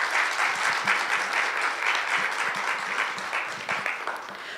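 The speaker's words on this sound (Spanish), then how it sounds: "le cedo la palabra con el aplauso para darle la bienvenida" An audience at a university history lecture at CULagos applauds to welcome the lecturer. The clapping is full and continuous, a crowd of many hands at moderate loudness, with no pauses and a slight fade at the end.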